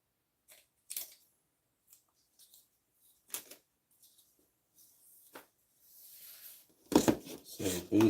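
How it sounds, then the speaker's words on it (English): Scissors snip through material for interior decorating in short, separate cuts spread across the stretch, close and fairly quiet, followed by a denser burst of louder rustling and cutting near the end. "Probably gotta get some better scissors"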